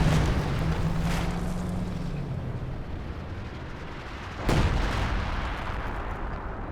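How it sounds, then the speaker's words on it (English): A walking Stuka rocket barrage in the video game Company of Heroes 2: dense overlapping explosions and rumbling blasts, with one sharp loud impact near the end over continuous battle noise. "We had the walking Stuka. So we got 2 kills with his first barrage."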